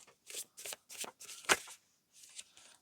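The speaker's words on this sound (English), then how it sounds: "I'm going to shuffle again." A deck of playing cards is riffled and bridged in a quiet room: several quick papery bursts in a row, close and crisp, then a softer final shuffle, with no voices.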